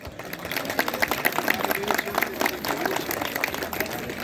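Audience applause at a Macedonian community gathering honoring a Swiss-based national council president, a dense crowd clapping steadily throughout at moderate loudness, without words.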